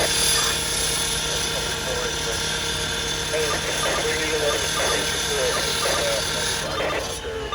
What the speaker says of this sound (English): We got a chopper up here.